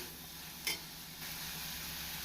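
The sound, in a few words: onions sautéing in a pan with pepper powder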